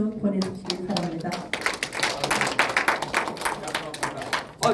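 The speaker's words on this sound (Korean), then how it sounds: "여러분, 지금까지 강의, 멋진 강의 주신 우리 박사님께 큰 박수 보내주시기 바랍니다" An audience at a Korean literary society's monthly meeting claps after a lecture, a steady patter of hands close by, with a voice speaking over the start.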